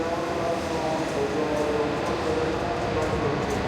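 A Shinkansen (Hakutaka 562, bound for Tokyo) pulls in at station track 11 with a steady, loud rumble of rolling wheels and a broad hum that holds evenly throughout, with faint voices in the mix.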